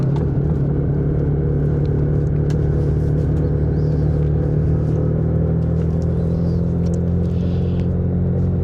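A vehicle rolls along a gravel track, giving a steady, loud low rumble with constant road noise throughout and no voices.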